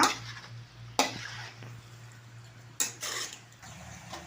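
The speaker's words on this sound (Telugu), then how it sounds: "నేను బాగా కలిపేసుకొని ఆయిల్లోనే మగ్గబెట్టేస్తా" Chicken cooks in oil in a pan under a low sizzle, with a few distinct clanks of a spoon against metal as it is stirred.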